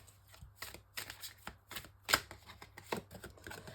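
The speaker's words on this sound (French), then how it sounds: "Donc je prends une carte du tarot psychique pour le cœur." Tarot cards being shuffled and drawn during a reading, a run of quick riffling and flicking bursts, close and moderately loud, with no talk.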